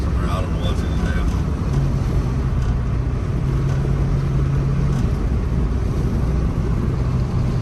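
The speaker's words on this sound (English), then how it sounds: "We've hit 55 miles an hour, cruising down the road." A 1977 GMC Jimmy with 95k miles cruises down the road at about 55 mph, with a steady loud engine drone and road and wind roar throughout and a faint tonal hum midway.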